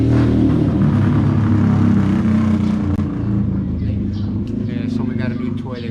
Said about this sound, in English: They got to put these loud mufflers on it.